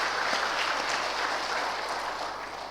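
A church congregation claps together in applause, a dense, steady patter of many hands that fades slightly toward the end.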